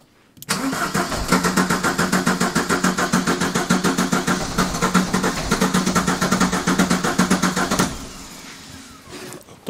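A Ford Escort diesel estate, unused for years, cranks over in a steady rapid rhythm of starter pulses for about seven seconds, loud and close, then stops abruptly without catching.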